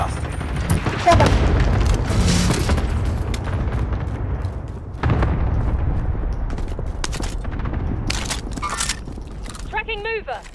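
Cluster strike explosions in a battle royale shooter, with a heavy booming blast and rumbling follow-up detonations, a second boom midway, and scattered sharp cracks, under excited talk from a player and game voice lines.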